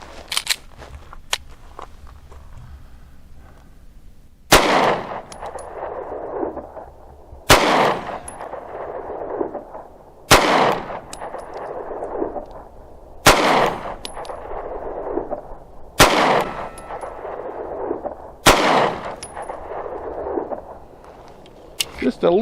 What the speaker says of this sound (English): So I'm going to slow down a little bit and fire 6 rounds